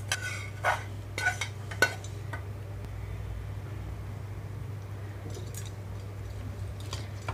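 A spoon clinks against a bowl a few times early on while tempering is stirred into curd for snake gourd chutney, followed by quieter mixing over a low steady hum.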